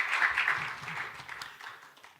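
A conference audience at a fiscal policy workshop applauds to welcome a speaker, a broad wash of clapping that starts fairly loud and gradually fades over a couple of seconds.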